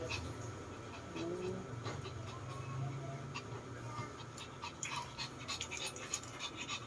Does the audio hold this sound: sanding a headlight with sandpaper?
no